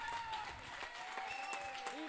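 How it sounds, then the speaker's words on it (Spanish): Spectators in the stands at a women's basketball game applaud steadily, a dense wash of clapping under a commentator's voice, with a whistle-like tone running through. "Aplaude la grada."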